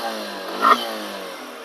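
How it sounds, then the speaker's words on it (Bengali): A second-hand motorcycle engine revved hard, a steady loud mechanical drone that swells into a brief sharper rev midway before settling back, with no voices. "রেপ করলে হচ্ছে আপনি বাইকের একটা সাউন্ড শুনতে পারবেন, ইঞ্জিনের সাউন্ড একটু শোনার চেষ্টা করেন"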